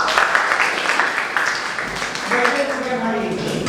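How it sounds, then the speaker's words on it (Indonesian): Classroom applause for Mas Jo during an Islamic religious education teaching session, a steady wash of clapping from students running under voices and speech throughout. "Boleh tepuk tangan buat Mas Jo?"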